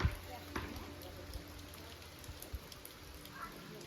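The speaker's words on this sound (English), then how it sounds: "It's drizzling." Light drizzle falls during the rainy season in Ukhrul, a soft, steady patter with a few sharper drops close by. It stays faint and continuous under a quiet outdoor background.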